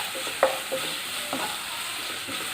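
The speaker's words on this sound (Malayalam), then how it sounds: "നന്നായിട്ടൊന്ന് വഴന്ന് വരട്ടെ." Chicken masala for Kerala style chicken mappas sizzles gently in a pan, a soft steady fry with a few scraping stirs from a spoon.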